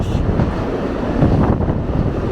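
The Lehigh Gorge Scenic Railway train rolling along the tracks, heard from on board as a loud, steady rumble of wheels and car noise with faint rhythmic clatter throughout.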